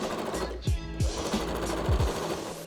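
A sewing machine running a straight stitch seam on fabric, a continuous close mechanical rattle with a few sharp thumps and knocks scattered through it.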